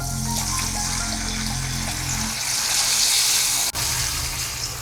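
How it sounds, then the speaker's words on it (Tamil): Water streams steadily into a pan for a couple of seconds, then the flow stops, leaving a faint hiss and a small clunk. "அதுக்கு 1/2 கப்பு தண்ணி ஊற்றுறேன்"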